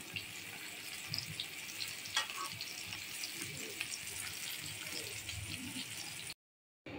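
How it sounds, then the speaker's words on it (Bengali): Eggplant slices frying in a pan, a soft continuous sizzle with faint crackles, quiet and steady, cut by a short dropout near the end. "তো এখন বেগুন ভাজি করে নিতেছি"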